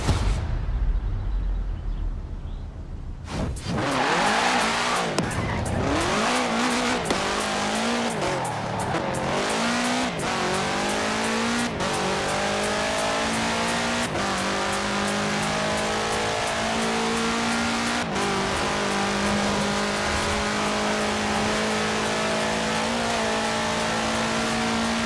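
A 1966 Volkswagen Beetle fitted with a 2.5-liter flat-four turbo engine accelerates hard in the Forza Horizon 4 video game. The engine climbs through revs with repeated gear-shift breaks, alongside tire squeal, loud and continuous.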